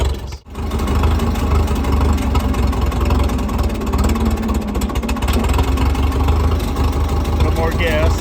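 A tractor engine runs steadily in low range with the PTO driving a post hole digger, a loud, close, continuous mid-pitched rumble after a brief dip at the start, with a voice speaking briefly over it.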